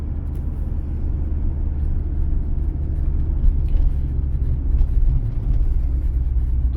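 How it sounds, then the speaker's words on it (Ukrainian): A car pulls through a town street in second gear at about 35 km/h on a driving-exam route, giving a steady, close engine rumble with road noise that holds evenly throughout. "Зараз у мене друга передача і також там десь 35 км на годину"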